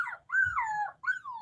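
A dog gives a short, wavering high-pitched howl with a slight whine, two rising-and-falling phrases separated by a brief gap, fairly close and alone, with no talking.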